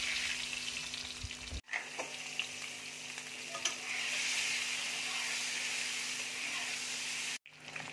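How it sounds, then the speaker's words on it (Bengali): Eggs sizzle and fry in hot oil in a wok, a steady loud crackling hiss that breaks off briefly twice, with faint stirring and no voices. "এবার ডিমগুলো আমি তেলের মধ্যে ছেড়ে দিচ্ছি।"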